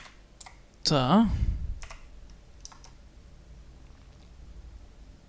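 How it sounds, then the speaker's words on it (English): Fingers tap on a computer keyboard in a few light, scattered clicks, mostly after a brief spoken word near the start, quiet and close in an indoor room. "And what if I type in"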